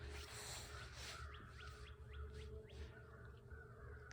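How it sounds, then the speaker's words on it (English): Birds chirp in early-spring woods, a series of short, faint calls some distance away, set against a steady low background hum. "You can hear the birds in the distance."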